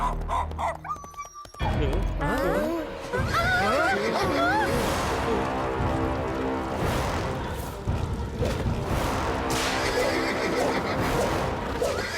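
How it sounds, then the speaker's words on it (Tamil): Horses whinny and neigh repeatedly over a dense, continuous rumble of galloping hooves and commotion at night, loud and close, with dramatic background sound throughout, from a Tamil action cartoon. "இந்த குதிரை ஓடுற சத்தம் நமக்கு எங்க இருந்துப்பா கேக்குது"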